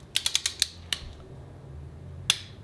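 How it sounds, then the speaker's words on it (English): Torque wrench ratcheting as head bolts are tightened on a Subaru EJ207 long block, a quick burst of sharp clicks followed by a few isolated clicks, close and crisp with no talk. "the first step is to tighten all the bolts to 22 foot-pounds in alphabetical order"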